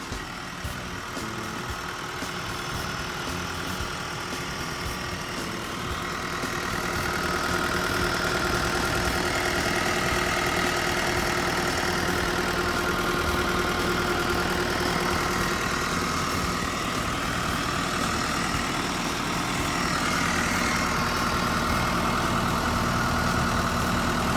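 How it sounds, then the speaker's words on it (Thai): Caterpillar 910G long-arm wheel loader with a turbocharged Caterpillar 6-cylinder diesel idling steadily, a continuous close, loud rumble with a faint knocking texture that grows slightly stronger after a few seconds, with no talking. "เสียงเครื่องเนี่ยก็ทำงานได้แน่นดีปกติหมดเลยนะครับ"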